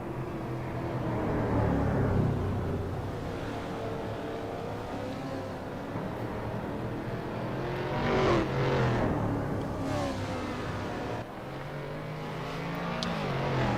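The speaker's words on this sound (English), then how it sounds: "The wonderful sound of mid-1960s GT cars echoes around Charade for the final time." Mid-1960s GT race cars at the Charade circuit in Clermont-Ferrand in a racing video game, a continuous layered engine roar with revs rising and falling as cars pass, steady and fairly loud, no talking.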